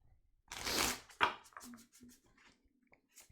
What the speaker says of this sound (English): you see me shuffling these decks and getting these odd spreads